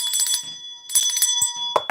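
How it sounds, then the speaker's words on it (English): A hand bell rings close and loud in two bursts of bright, sustained metallic ringing with a short pause between them and a sharp final clang. "I got to ring the bell for you"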